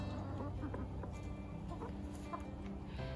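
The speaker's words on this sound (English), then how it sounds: "Those are the sounds of chickens that are content." Chickens cluck softly and steadily, a close, low murmur of several hens with occasional brighter calls, continuing without a break.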